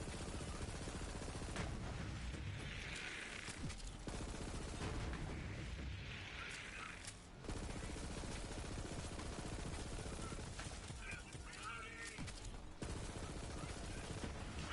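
SMG fire in Borderlands 3, rapid continuous bursts of automatic shooting that run almost nonstop, layered with brief shock-effect crackles and occasional short pauses between strings of shots.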